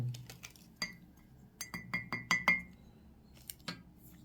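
A metal spoon clinks against a glass Nescafe jar as it is lifted out, a run of close, bright taps and rattles in an otherwise quiet room, with no talk.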